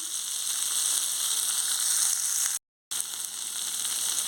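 Onions, curry leaves and garlic crackle and sizzle steadily in hot frying oil for an onion chutney, close and fairly loud. The hiss is continuous apart from one short silent break, and no one talks over it.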